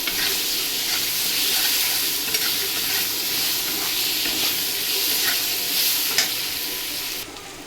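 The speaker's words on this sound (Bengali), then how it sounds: "আলুগুলো দিয়ে ভালো করে ভেজে নেবো" Potatoes frying in oil in a pan, a steady, loud sizzle with repeated scraping and stirring strokes throughout, close up and without talk.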